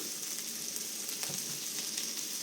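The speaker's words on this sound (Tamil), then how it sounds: "அதனுடன் கருவேப்பிலை போட்டு நன்றாக வதக்க வேண்டும்" Curry leaves and tempering spices with onions fry in a pan for soya curry, giving a continuous, soft, crackling sizzle with small pops and no voices.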